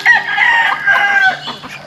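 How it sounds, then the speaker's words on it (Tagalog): Egg-laying hens in a Filipino backyard flock cluck and call loudly and close by in an overlapping, continuous chorus of squawks and warbling notes, with no talk. "Dami na tayong manok na nag-iitlog."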